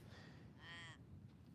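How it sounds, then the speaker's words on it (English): A crow caws on the coast, two harsh calls, the second louder, over a steady wash of low ambient noise, faint and somewhat distant. "And the crow's not happy."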